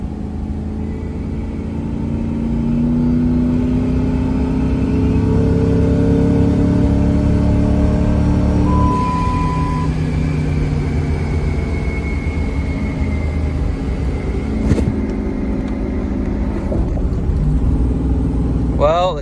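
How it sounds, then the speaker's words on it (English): A supercharged car engine with a TorqStorm centrifugal supercharger drones at steady revs, held in second gear at 3,000 rpm, loud and close from inside the cabin, holding a constant pitch with a faint whine, while someone talks over it. "I'm just holding second gear at 3 grand. You can hear it."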